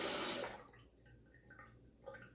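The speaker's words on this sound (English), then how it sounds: "let me kind of run a little water here and wet the tips of this" Tap water runs into a bathroom sink while a razor is wetted before shaving, a brief loud splashing burst at the start that quickly drops to a faint, steady trickle.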